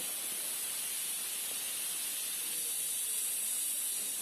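Steady, loud hiss of steam escaping from a pressure cooker while desi meat cooks in it, a continuous broadband rush with no clear whistle bursts.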